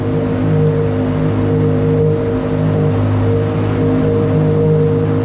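A Sea-Doo Spark Trixx jet ski engine at low RPM around 5,100 with a 12x14 impeller, a steady loud droning hum with rumbling water noise, holding constant without revving, no talking.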